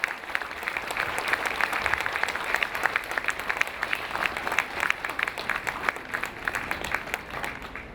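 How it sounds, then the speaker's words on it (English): A crowd at a Veterans Day parade in Leavenworth County claps steadily for about eight seconds, a dense, even patter of applause with no voices over it. "How about a round of applause for Mr. Larry Burns, Mr. Larry Meadows, and Mr. Fred Box."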